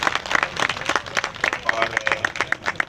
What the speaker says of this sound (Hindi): तमाम दोस्त तालियां बजा के उनको मुबारकबाद दें